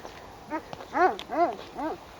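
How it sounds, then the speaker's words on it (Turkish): A dog barks on a rural village road, four loud harmonic barks spaced about half a second apart, close by, with no talking over them. "Tam karşımda köpek havlamaya başladı."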